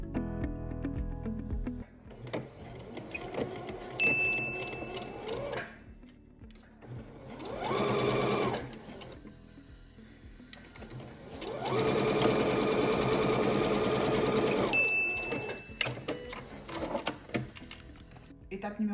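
Home sewing machine running stitching an assembly seam on a fabric scrunchie tube, two sustained whirring bursts of steady motor and needle chatter, with quieter handling noises and a voice speaking between runs.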